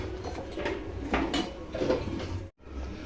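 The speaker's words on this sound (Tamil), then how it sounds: "அடிப்பிடிக்க மட்டும் விடாமல் இது வந்து இப்போ கரிஞ்சிடக்கூடாது, கரிஞ்சிடாமல் கிளறி மட்டும் விடுங்க" Thick jackfruit halwa is stirred in a pan, with repeated scraping and rubbing strokes of a utensil against the metal, close and moderately loud, broken by a short silence before resuming.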